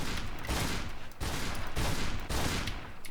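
Alpha 12 weapon in the zombie game Darkest Days firing in rapid, continuous bursts, loud and close, with short gaps between volleys and no talking.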